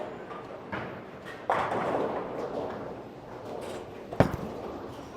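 A bowling ball, a Storm DNA Coil drilled pin up, rolls down the lane with a low rumble and then smacks into the pins in one sharp, loud crash near the end.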